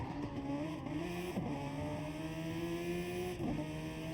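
Raspy Toyota-powered Super Formula race cars scream around Brands Hatch in a sim racing game, engines rising and falling through gear changes with brief braking dips, heard fairly quietly and continuously without talk.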